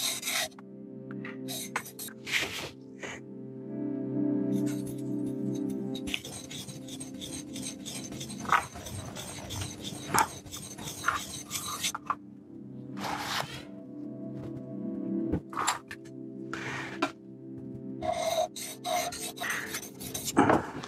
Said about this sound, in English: On the chisel, back to the chisel, I'm gonna do most of the work on the beveled side.